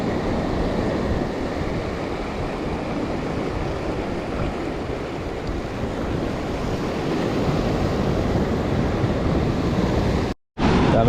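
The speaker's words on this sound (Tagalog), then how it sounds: "Sobrang lakas ng alon." Heavy surf roars continuously with strong wind noise buffeting the microphone, loud and close, before a brief dropout near the end.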